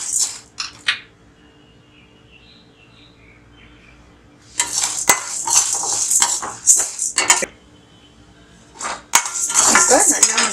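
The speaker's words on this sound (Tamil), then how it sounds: "இதில் நம்ம பெருங்காயமும் கடலைப்பருப்பு, உளுந்து இதை நல்லா சவக்க வறுத்துக்கலாம்" Asafoetida, chana dal and urad dal dry roasting in a pan, heard as bursts of rattling, scraping utensil clatter against the metal, separated by a quiet stretch, with a few sharp clicks.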